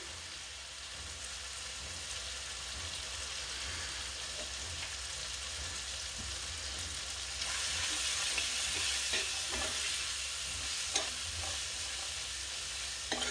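Chili and turmeric frying in a pan for gobi kofta curry, a soft continuous sizzle that grows brighter and louder midway, with faint stirring scrapes and no voices.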